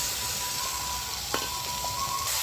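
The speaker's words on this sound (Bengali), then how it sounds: "টমেটোর বাটাটা দিয়ে দিচ্ছি এবার আমি" Tomato paste with turmeric and chilli powder sizzles softly in a pan, a low steady hiss with one brief clink near the middle. There is a faint tonal hum and no talk.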